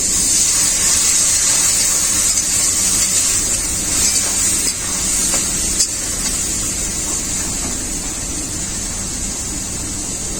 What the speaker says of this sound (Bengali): মশলাটাকে বসানোর জন্য অল্প একটু জল দেবো